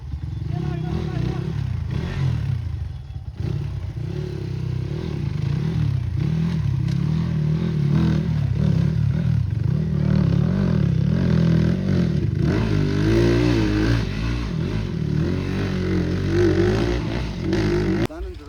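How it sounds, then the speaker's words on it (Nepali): A Royal Enfield Bullet motorcycle rides over a dirt trail, its engine thumping and revving steadily up close with rattling clatter, while people talk over it throughout. "केटाहरू बाइक कुदाउँदैमा ठिक छ है"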